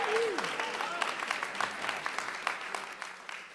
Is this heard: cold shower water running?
no